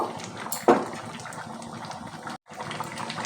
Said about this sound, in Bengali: আরও আমি দুই থেকে তিন মিনিট ফুটিয়ে নেব